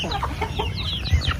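Chickens cluck in a quick, close burst on a backyard farm while being given feed, several short overlapping calls over a steady low background.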